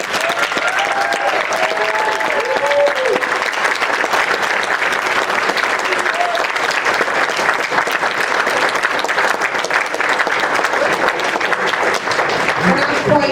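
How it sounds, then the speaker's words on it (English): Sustained loud applause from an audience honoring Legion of Honor recipients at a formal ceremony, a dense continuous clapping that holds steady throughout, with a few voices briefly audible early on. "Let's give our Legion of Honor recipients another big round of applause"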